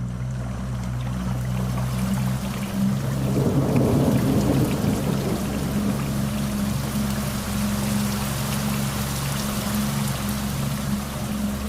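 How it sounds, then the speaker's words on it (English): Thunderstorm over water with hard, straight-down torrential rain and no wind, a dense continuous roar of rain with a deep rolling thunder swell in the middle, close and loud. "Just a very hard, straight-down torrential rain."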